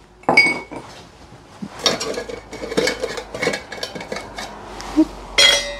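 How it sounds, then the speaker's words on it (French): Ice being cracked and moved in a cocktail glass, sharp clinks and glassy knocks scattered irregularly, close and clear, with no talk. "Hop, je vais juste casser cette glace. Voilà. Hop, et on va rafraîchir le verre aussi."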